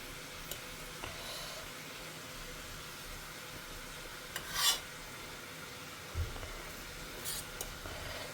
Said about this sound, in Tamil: இப்போ நம்ம முருங்கைக்காய் தொக்குல சாதத்தை கலந்துடலாம்